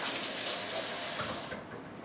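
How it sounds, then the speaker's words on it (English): Hands are rinsed under running tap water at a home sink, a close, steady splashing rush that thins out toward the end, with no voices. "now what you do is wash your hands real quick because you're going to get dirty"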